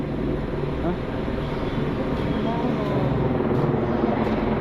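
A helicopter drones steadily in the distance near Gelmersee on the Grimsel Pass, a constant low rumble with people talking faintly over it.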